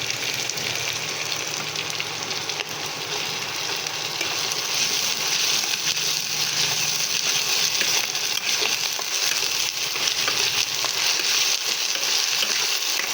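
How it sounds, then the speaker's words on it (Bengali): Chana dal sautéing in a pan with onion and ginger-garlic paste makes a continuous moderate sizzle, joined by soft scraping as it is stirred, with no voices. "এই আদা রসুনটাকে খুব সুন্দরভাবে ছোলার ডালের সাথে আমি ভালোভাবে কষিয়ে ভেজে নেব।"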